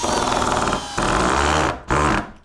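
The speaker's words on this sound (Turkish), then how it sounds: "3 deyince matkaplara basacağız ve hangisi daha hızlı sıkıyor onu göreceğiz." Several cordless drills are triggered together in a speed test, giving loud, steady whirring bursts that cut off briefly twice before starting again.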